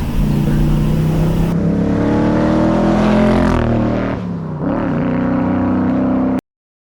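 A 1965 Factory Five Cobra with a 347 cubic inch engine making over 400 horsepower in a 2,500-pound car, revving loudly nearby with a deep, steady roar that rises in pitch, dips briefly, then climbs again before cutting off.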